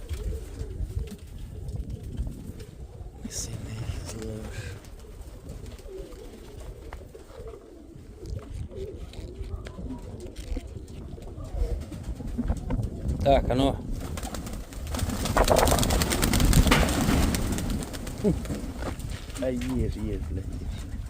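Pigeons cooing outdoors under open sky, a soft repeated low cooing mixed with outdoor noise and people talking nearby, growing louder toward the end.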